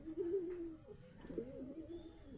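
Flying pigeons kept in a loft coo softly in low, rolling, repeated calls, fairly close and alone, with a brief pause between two cooing phrases.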